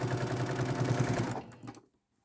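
A sewing machine stitches a foundation-pieced quilt seam, a rapid, rhythmic mechanical chatter close by that runs for over a second, then slows and stops into silence.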